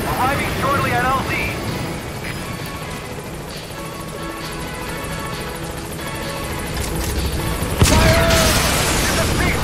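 Helicopter in Metal Gear Solid V flying in to a landing zone, a steady rotor drone under game voices and radio chatter, with a sharp bang near the end.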